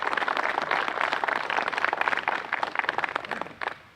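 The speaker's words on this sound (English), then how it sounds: "I'd like to give a round of applause" A crowd applauds at a groundbreaking ceremony with steady, dense clapping that fades out near the end.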